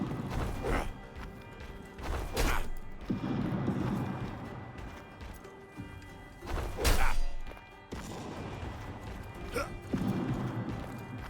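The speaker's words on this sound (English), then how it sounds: "there's cannons dropping everywhere" Heavy cannonballs dropping and crashing around a battle in Gangs of Sherwood, several loud thudding impacts spaced a few seconds apart over ongoing game clamor.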